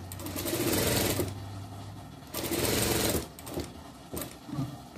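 Sewing machine stitching a small dress for a Shih Tzu, running in loud bursts of steady whirring separated by short pauses, close to the microphone with no talk.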